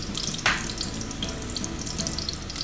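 Fish cooking with tomatoes sizzles steadily in a hot pan, with a brief louder hiss and crackle as it is stirred, then continues frying at an even level, close up and with no voices.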